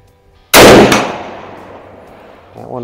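A custom Mosin Nagant rifle firing hand loads goes off in one loud, sharp blast outdoors, with a long decaying rumble trailing behind it toward steel targets at 100 and 200 yards.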